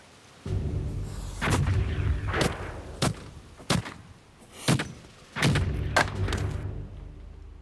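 Muzzle-loading cannon from a reconstruction of the Tudor warship Mary Rose fire in a series of heavy, booming blasts, roughly six reports with longer rumbling tails between sharp shots, loud and close.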